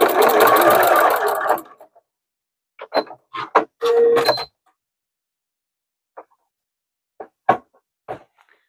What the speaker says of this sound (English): So there it is, baste it on so that it's held there for later.